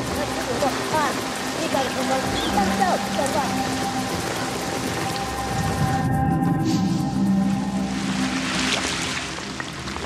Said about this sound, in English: Thank you for the good rain.